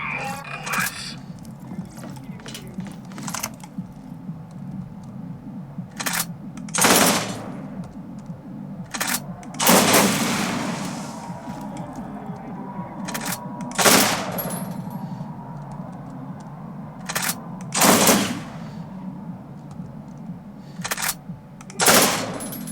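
Rapid video-game gunfire rattles in repeated bursts of varying length, loud and near, separated by quieter gaps with low background noise.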